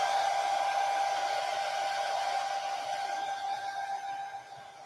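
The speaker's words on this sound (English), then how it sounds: "I'm just going to dry this real quick with my blow dryer" A blow dryer runs steadily close by, drying paint on a craft project with a constant whirring hum that fades slightly near the end.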